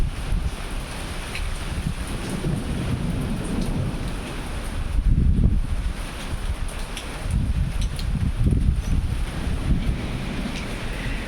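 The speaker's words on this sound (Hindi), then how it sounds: "ठंडी ठंडी हवा चलने लगी पहाड़ों में" Cold wind blows steadily in the hills of Dehradun under cloudy skies, a loud continuous rush with gusts swelling around the middle and again later, with no talking.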